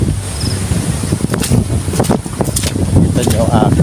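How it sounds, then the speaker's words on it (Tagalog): Strong wind gusting around a farm, buffeting the microphone in rough bursts with rustling, under nearby talk. "Napakalakas ng hangin."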